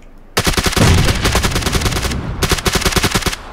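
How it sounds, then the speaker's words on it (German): Fast automatic gunfire in PUBG starts abruptly as a long rattling burst, then pauses briefly and resumes with a second rapid string, loud and close with no talking. "Jemand anderes schießt auf den."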